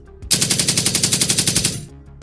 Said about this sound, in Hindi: विलियम ने स्टैन गन का मुंह खोल दिया